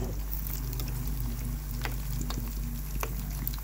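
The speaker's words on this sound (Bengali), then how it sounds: "এখানে একটু চিকেন ফ্রাই বাজবে" Chicken pieces frying in hot oil, a steady close hiss broken by scattered crackles and pops, with a low constant hum underneath.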